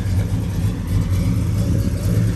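A 1967 Pontiac GTO with a 400 cubic inch V8 rumbles steadily on the road, its deep, loud exhaust note holding a continuous low growl throughout with no talking.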